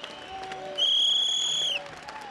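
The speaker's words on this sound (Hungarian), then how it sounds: "Az emberek pedig füttyel és tapsal köszöntik." A crowd at a street protest greets passing figures with a long, loud shrill whistle lasting about a second amid scattered clapping and background voices.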